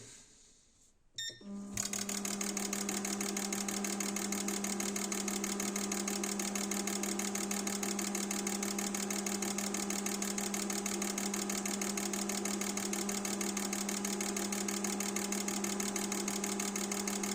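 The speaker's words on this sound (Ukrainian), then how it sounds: "Так, тестуємо форсунки." Petrol fuel injectors from a Dacia Logan firing on an AUTOOL CT400 test stand, a steady rapid mechanical ticking over a constant motor hum that starts abruptly after a short quiet lead-in and runs loud and unchanging.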